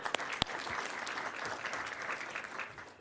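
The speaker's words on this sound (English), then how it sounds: "Let's give Tammy a round of applause." A county commission meeting audience breaks into a round of applause for a retiring employee, steady dense clapping across the whole stretch with a few sharp individual claps standing out early.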